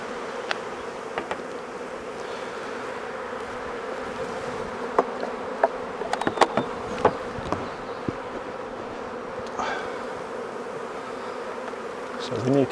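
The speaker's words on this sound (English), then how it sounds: "So we need to just brush these bees off here. We don't want to be crushing bees." Honey bees buzz steadily around an open Maisemore poly commercial hive, a dense continuous drone close by, with occasional sharp knocks and handling sounds as frames are worked.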